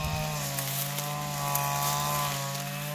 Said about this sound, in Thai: เพิ่นก็ตัดหญ้าไป